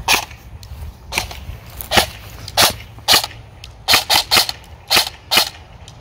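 Airsoft EMG Salient Arms M4 AEG rifle with a G&P gearbox and microswitch trigger, firing about a dozen sharp single shots at irregular intervals, loud and close with no talking.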